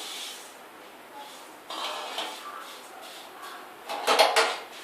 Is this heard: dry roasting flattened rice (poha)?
yes